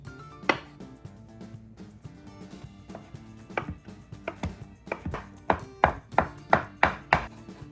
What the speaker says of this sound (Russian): Теперь приходится ножом крошить.